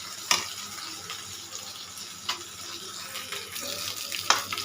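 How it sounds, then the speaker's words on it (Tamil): Coconut crab curry simmering in a pot, a low steady bubbling hiss with a few sharp clinks of utensils, close and moderately quiet. "குழம்பு நல்லா கொதிச்சிச்சு."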